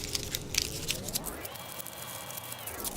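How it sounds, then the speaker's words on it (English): A paper heart cut from craft material is crumpled by hand, giving a close, soft crackling and rustling that runs steadily through the clip. "Crumple it up and then carefully,"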